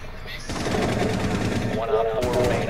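Rapid automatic gunfire in Rainbow Six crackles in dense, fast bursts throughout, loud and close, while players talk over the shooting.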